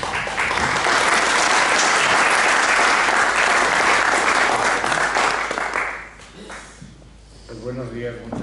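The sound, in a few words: audience applause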